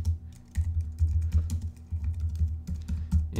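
Rapid keystrokes on a Mac keyboard as a command is typed into Terminal, an uneven run of close, crisp clicks that continues throughout with no talking.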